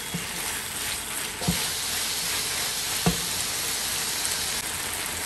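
Beef sautés in a frying pan with a steady loud sizzle and hiss, broken by two brief knocks of a utensil against the pan, no talk.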